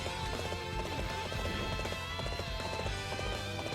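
Horse hooves gallop in the video game Dynasty Warriors 8 Xtreme Legends, a fast, continuous clip-clop rhythm mixed with game music and battle ambience.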